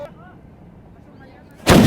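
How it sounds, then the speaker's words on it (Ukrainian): Quiet background with faint voices, then a single sudden, very loud real cannon blast near the end that fills the space. "шмальнути зі справжньої гармати"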